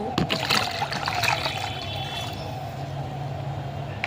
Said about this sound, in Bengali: একটু জলটা উপরে ঢেলে নেব